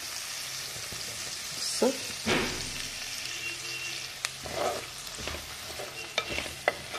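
Three green chillies hiss and sizzle in hot oil in a pan while chicken liver and snake gourd curry is being cooked, with stirring scrapes and a steady frying crackle; a voice speaks briefly.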